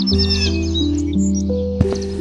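Sparrow chirping in a tree-top nest in a forest, rapid bright tweets in short bursts, near and clear over a steady low background hum, with a single sharp click near the end.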